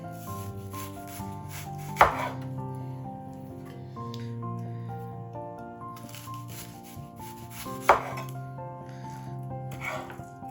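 A knife chopping red onion on a cutting board, two sharp, distinct strikes a few seconds apart, heard over steady background music with no talking.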